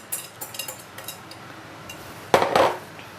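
Metal utensils clink and tap against a glass or pot while a rum cocktail is mixed, a few light scattered ticks followed by a louder short rattle of stirring, close by.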